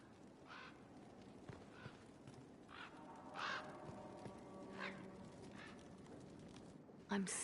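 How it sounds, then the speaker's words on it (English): Crows cawing from cages in the game Dragon Age: Inquisition, several harsh calls spaced across a busy background with hoof clops and a voice speaking. "Sister Leliana will want access to the birds. Get the cages up here"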